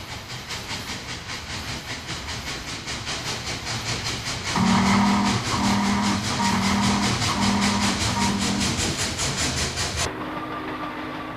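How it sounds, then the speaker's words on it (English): A streamlined Norfolk and Western Class J steam locomotive pulls a passenger train with rapid rhythmic chuffing and hiss, while a loud steam whistle blows several long, steady blasts midway before cutting off. "Here, a streamlined Class J locomotive is pulling the eastbound Pocahontas from Cincinnati to"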